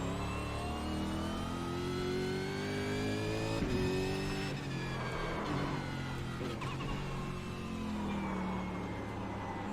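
Race car engine in the iRacing sim, a big heavy Mustang or ZB Commodore, holding a steady loud drone with rising and falling rev sweeps through the turns, engine alone with no talk.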